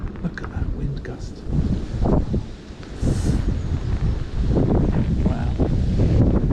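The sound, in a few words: gusty wind blowing on river bank, wind noise on microphone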